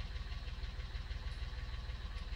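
A tractor engine in Farming Simulator 19 runs at a steady, even throb with a low rumble throughout, close and alone, no voices over it.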